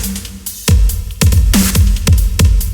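A drum kit is played through an Audio Damage EOS 2 plate reverb with increased pre-delay: loud punchy kick and snare hits in a steady groove, each trailed by a washy plate tail. No talking.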